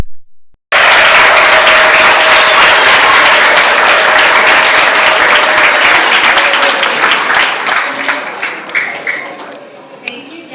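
Church audience clapping after a graduation speech, a loud dense burst that starts abruptly and holds steady before thinning into scattered individual claps toward the end.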